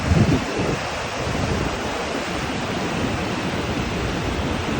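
Floodwater from a cloudburst rushes through a river past a house built in the riverbed at Maldevta, Dehradun, a loud, continuous roar with no speech.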